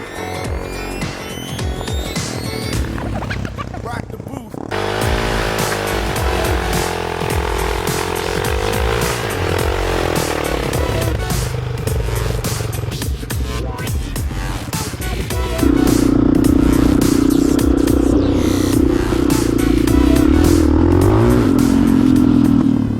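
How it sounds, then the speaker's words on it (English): A single-cylinder Kawasaki KLX450R enduro motorcycle engine thumps and revs close by, loud and continuous, its pitch rising as it accelerates near the end. "The engine is a single-cylinder thumper"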